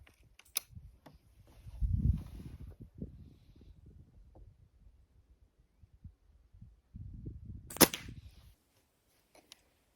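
Two sharp, snappy shots from a PSRM 2-55 air rifle firing Öztay pellets crack out several seconds apart amid quiet handling clatter and low rumbling thuds.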